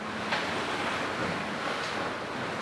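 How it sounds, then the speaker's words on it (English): Steady wind and surging waves aboard a sailing boat heading to Cairns in rough, worsening weather, a continuous loud broadband rush with slight swells and no talking. "The waves are a bit bigger in here than I was anticipating"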